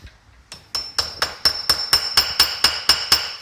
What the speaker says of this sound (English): I take my hammer,